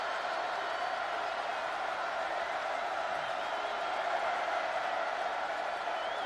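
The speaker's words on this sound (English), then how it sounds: "Tennessee's players urging the crowd to make some noise." Roar of a football stadium crowd during the 2007 Tennessee vs Arkansas college game, as Tennessee players urge the fans to make noise. It is a broad, even wash of distant cheering that holds steady without letup.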